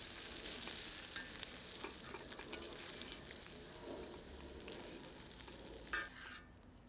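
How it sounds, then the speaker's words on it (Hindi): Onions and capsicum fry on high heat in a kadhai while a ladle stirs them, making a steady sizzle broken by scraping and occasional clinks of the ladle against the pan. "इसे तेज आंच पर 2 मिनट तक भूनते हैं और करछी चलाते रहते हैं ताकि प्याज एवं शिमला मिर्च थोड़ी करारी हो जाएं।"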